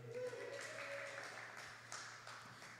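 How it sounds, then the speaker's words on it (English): Faint applause from a small group, a steady patter of clapping heard at a distance under a low hum. "let's clap it up for that"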